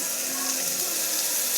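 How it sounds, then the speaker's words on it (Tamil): Water pours steadily into a cooking pot in a home kitchen, a continuous close, bright rushing splash with no pauses or voices over it. "இப்ப இதுல தண்ணி ஊத்தணும்."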